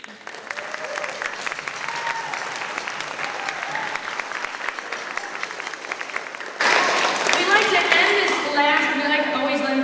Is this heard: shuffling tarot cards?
no